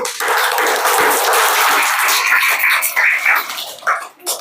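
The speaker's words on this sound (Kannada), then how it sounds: "ಎಲ್ಲರೂ ಚಪ್ಪಾಳೆ ಹೊಡೀರಿ." Schoolchildren at a government Urdu school's Eid Milad celebration break into loud, dense applause that holds steady for about four seconds before fading out in a few final claps.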